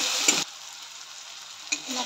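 Tomatoes fry with masala in a pan, giving a close, steady hiss of sizzling with brief louder bursts where the mix is stirred at the start and near the end.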